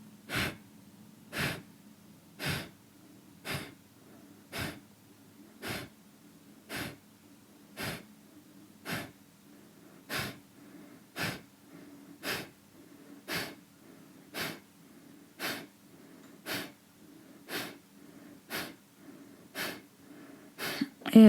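Rhythmic nasal breathing during a kriya pranayama exercise, about twenty sharp, evenly spaced breaths through the nose, close and fairly loud, steady throughout with no talking.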